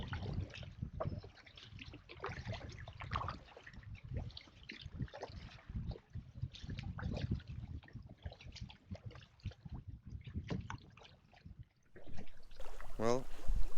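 A canoe paddled upriver against a strong current and wind, soft water swishes and splashes mixed with gusty wind noise on the microphone, close and fairly quiet, with a voice talking intermittently.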